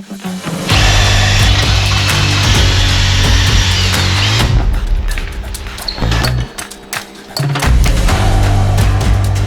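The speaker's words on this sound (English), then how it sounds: "Might see me going around cleaning bits up with the drill here and there" Loud, close power drill whirring with a steady hum while cleaning metal parts on a Volkswagen Scirocco R-Line, briefly stopping and restarting in short bursts before running on again.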